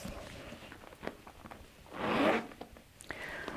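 A zipper on a handbag is pulled open in one quick, raspy stroke lasting under half a second, close and fairly quiet, amid small handling rustles and clicks.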